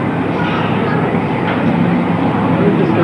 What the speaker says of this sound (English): The Lincoln Road Tram, ladies and gentlemen.